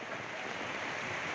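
Heavy rain falls on a remote tribal hillside settlement, a dense steady hiss of downpour with a windy rush, uniform and unbroken throughout.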